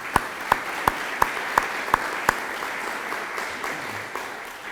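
An audience at a Veterans Day service applauds a college choir ensemble: a soft wash of clapping with about seven sharp, evenly spaced claps standing out near the front before fading into light hiss.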